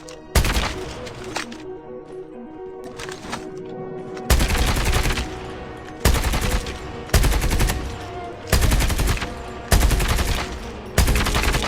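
Gunfire from a first-person shooter game: rapid automatic bursts while aiming and firing from the hip, an opening burst then several loud, evenly spaced volleys, each cracking sharply and trailing off, with no talk.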